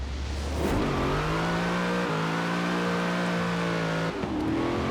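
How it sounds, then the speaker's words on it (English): Stock 2018 Chevrolet Camaro ZL1 in Forza Horizon 4, its engine revving hard and rising in pitch, with a quick gear change and a rising note again, close and loud with no talk. "Certainly an angry engine."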